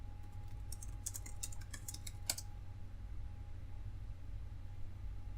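A password is typed on a computer keyboard: a short burst of quiet, close key taps over a low steady hum, then only the hum continues.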